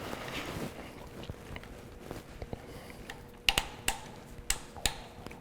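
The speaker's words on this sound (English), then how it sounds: "You've got that positive click to know that you're going up or down in your elevation" The rear sight elevation screw on a 2020 Colt Python is turned, giving a few sharp, distinct metallic clicks close up and spaced out, after some quieter handling of the revolver.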